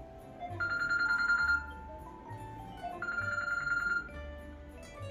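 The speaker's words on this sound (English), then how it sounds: "Here you have a guest at your door, you get the ring on your phone wherein you answer." A smart lock doorbell rings through a mobile phone when a guest arrives at a furnished studio apartment's door in Andheri East, Mumbai, sounding as two bursts of a repeating electronic chime separated by a short pause.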